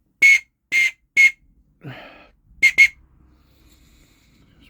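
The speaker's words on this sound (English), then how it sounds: "more like a train operator's whistle than a dog whistle." Three sharp, shrill blasts from a homemade bullet-casing whistle, then a short breathy sound, then two quick blasts close together; loud and nearby, with a brief spoken word in between.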